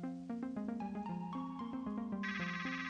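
A phone ringtone in the video game Trover Saves the Universe plays as a steady, loud electronic melody of stepped tones, with a brighter high chime joining near the end and no talk over it.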